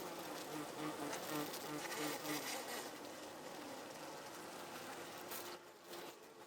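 Honey bees buzzing inside the hive around the colony's queen, a dense continuous hum with steady low tones, close and alone with no voices.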